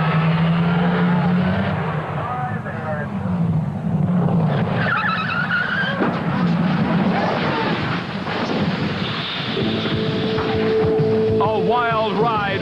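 A funny car roars down the strip on a qualifying run in Funny Car Eliminator at National Trail Raceway. The engine noise and wind rush run throughout, with a commentator talking over it.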